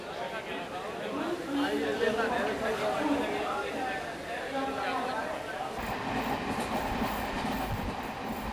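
A passenger train leaves Delhi station in India with a steady rumble and rhythmic clickety-clack of rolling carriages, the clatter shifting and deepening partway through, while people chatter in the background.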